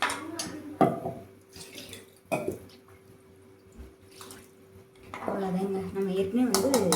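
Rice-washing water pouring into a jar in a home kitchen, heard as soft intermittent splashes and trickles, with a steadier pour building near the end, set against a low background hum.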